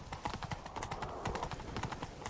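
Rapid clip-clop of horse hooves galloping in The Witcher 3, steady and close, with a brief snort of a horse mixed in.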